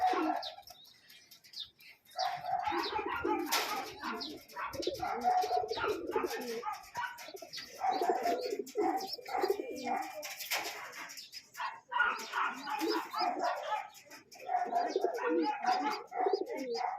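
Racing pigeons return to a loft during summer 2024 training, giving soft repeated coos and some chirps close by, while a dog barks intermittently and someone talks now and then.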